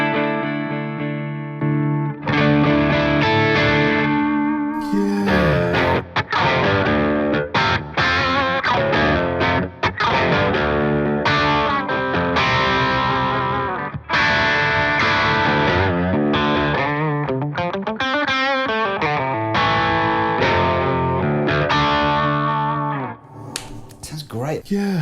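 An electric guitar played through a Victory Super Countess amplifier, switching from clean to crunch, strummed chords and riffs ringing out loudly, with a brief gap and some distorted, crunchy passages.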